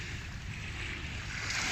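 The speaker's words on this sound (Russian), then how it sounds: "Поснимаю для вас немножко море" Sea waves wash steadily onto a warm seaside shore in April, a continuous broad rush of surf heard close and fairly loud, with some wind buffeting the microphone and no voices.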